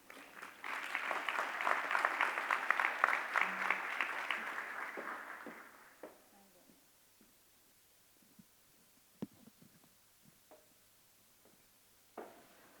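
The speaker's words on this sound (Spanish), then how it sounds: "Recibamos con un aplauso a Katy Uribe." Audience applause at a mining-industry clean energy and decarbonization congress panel, welcoming a panelist: a dense burst of clapping for about six seconds that fades out, then a few scattered claps and small room noises.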